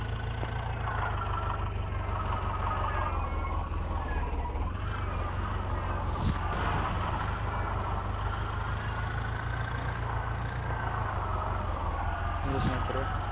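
Steady, droning tractor engine from a full-load tractor driving video game, a continuous low hum with no break and brief high-pitched blips now and then, with someone speaking over it.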